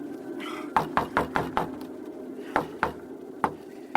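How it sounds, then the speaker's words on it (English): Repeated hard knocks hammer on a wooden cottage door, a fast burst of five blows followed by scattered single thuds, close and loud against a low background. "Kit, as he stands hammering at the door of Nell's cottage"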